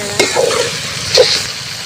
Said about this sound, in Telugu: తిప్పేస్తుంది ఫ్రెండ్స్